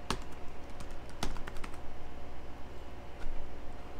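Login credentials typed on a computer keyboard, a quick irregular run of close, crisp key clicks with a couple of sharper presses, no voices.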